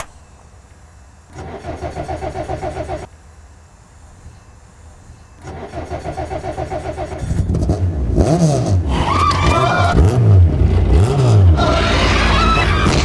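A Peugeot 306 Maxi rally car's engine barks through short bursts of revving with brief quieter pauses, then climbs into loud, sustained high revs with rising and falling pitch sweeps, close by and without talking.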